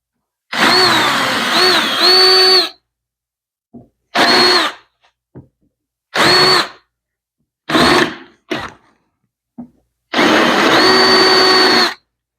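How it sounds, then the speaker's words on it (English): Power drill boring countersinks into laminated wood for a boat seat, running in about five loud separate bursts of a couple of seconds each with short pauses and brief taps between them. "Now we're going to come in and just make countersinks."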